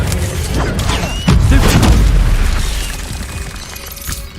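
An Incendio fire spell cast in Hogwarts Legacy bursts with a loud booming whoosh and crackling, rumbling low, with creaks and small pops in the game combat that fade over a few seconds.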